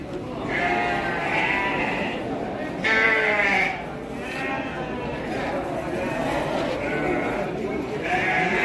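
Garut sheep bleat repeatedly at a livestock market in Garut, several wavering cries rising over a busy crowd with people talking nearby.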